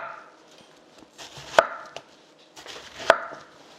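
A kitchen knife cuts Korean pear into thick julienne strips on a cutting board, giving a few distinct sharp chops spaced about a second and a half apart, with softer slicing sounds between them, close by.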